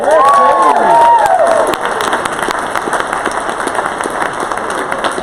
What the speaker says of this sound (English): let's give a round of applause to Katie Bush